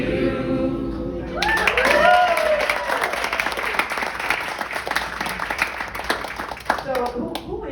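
A room of guests bursts into applause after a birthday song for an 80th birthday, a dense burst of clapping that swells, then thins out under talking and cheering voices.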